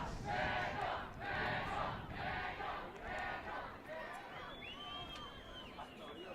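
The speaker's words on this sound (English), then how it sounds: "the crowd is loving this" A stadium crowd roars and cheers at a Jamaica versus Mexico rugby match, loud swelling bursts of voices from a distance that ease off into a lower murmur, with a commentator talking over the noise.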